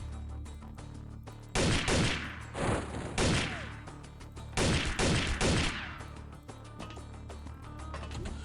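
In the game XPiratez, bursts of gunfire crack out in quick volleys, loud and clustered shots separated by short pauses, with faint mechanical clicks in between.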